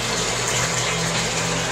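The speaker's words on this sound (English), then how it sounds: "we are filling the tub with cold water" Cold tap water pours into a bathtub in a loud, steady rush that fills the whole stretch, close by and with no talking.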